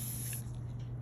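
Cleaner sprayed onto sticky tree sap on a car's paint, a short close hiss of spray lasting about a second, alone without talk.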